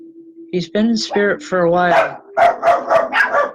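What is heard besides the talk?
dogs barking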